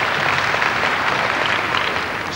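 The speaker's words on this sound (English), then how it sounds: "Sympathetic applause from the crowd." Sympathetic applause from a gymnastics championship crowd, a dense steady patter of many hands clapping throughout, moderately loud and continuous.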